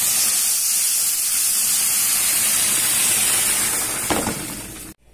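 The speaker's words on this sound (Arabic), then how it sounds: "خلاص كده انا هضيف الشوربه" Broth poured into a hot pot of orzo soup with chicken livers and gizzards, making a loud, steady rushing hiss that ends with a knock and then cuts off abruptly.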